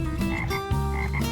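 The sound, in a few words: frogs croaking in spring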